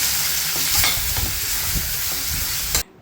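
Onions and tomatoes with curry leaves fry in a pan for a sardine curry, a continuous sizzle broken by the scrape and clatter of stirring, loud and close before cutting off abruptly near the end.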